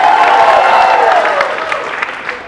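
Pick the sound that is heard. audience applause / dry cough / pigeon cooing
audience applause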